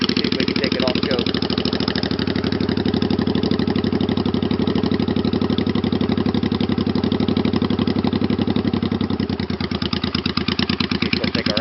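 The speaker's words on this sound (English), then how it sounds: "it really doesn't do the pipes justice to how deep and throaty this thing really sounds" A Honda Shadow VT500 bobber with aftermarket pipes idles steadily, loud and close. The deep, throaty exhaust thumps in a continuous even pulse for the whole stretch.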